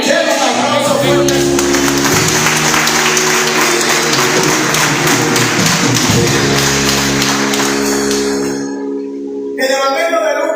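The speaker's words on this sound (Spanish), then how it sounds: "Denle un aplauso fuerte." A church congregation in Managua, Nicaragua applauds loudly for about eight seconds, with broadband clapping over sustained musical tones from instruments, then the clapping fades briefly before picking up again.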